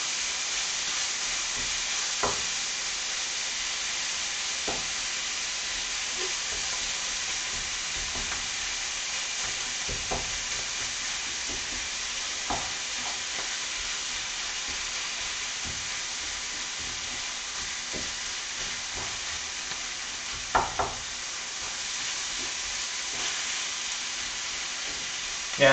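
Bacon sizzles in a pan with a steady soft hiss, broken by occasional light scrapes and stirring clicks.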